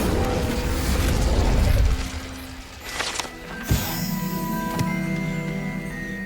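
An Incendio fire spell in Hogwarts Legacy goes off with a rumbling whoosh, followed by a short sharp burst and crackling impacts.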